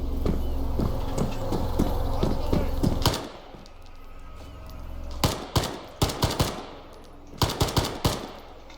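Arma 3 DayZ mod firefight: rapid automatic gunfire, a steady rattling burst at first, then separate clusters of sharp shots after a pause, moderately loud and without talk over it.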